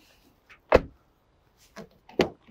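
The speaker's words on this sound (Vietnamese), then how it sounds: "Cửa đóng cực kỳ chắc chắn nha quý anh chị em nhé." Doors of a pearl-white Honda CR-V closing with solid, heavy thuds, two main close-up slams and a few softer clicks between them, with nothing else audible.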